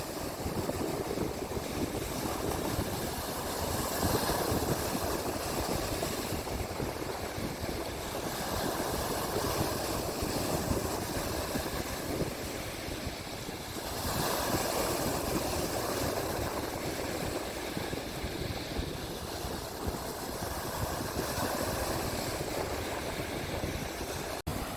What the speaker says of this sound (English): Just listening to the sound of the waves